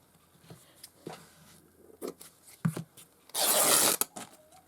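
Paper strips for a vintage-style floral journal are cut close up: several short, soft snips and rustles, then a louder burst of crisp paper sound lasting about a second, with no speech.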